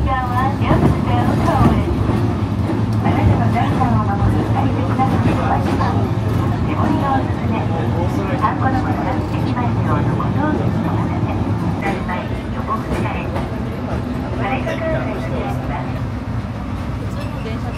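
Steady rumble and rattle of a tram in motion in Okayama, Japan, fills the clip, with muffled voices talking faintly underneath the continuous rolling noise.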